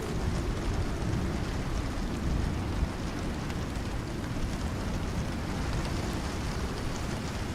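Rain in the video game Icarus makes a steady, dense roar that fills the whole stretch without pause, loud and even with no voices heard over it.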